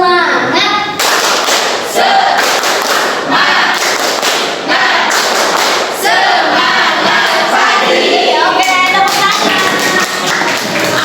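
A school class clapping a rhythmic cheer together, loud dense volleys of claps in patterned bursts mixed with shouting voices, close and continuous for several seconds.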